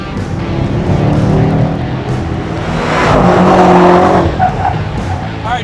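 A race car laps a raceway with tires squealing and skidding through the corners. The engine roar is loud and sustained, swelling midway, with faint voices in the background.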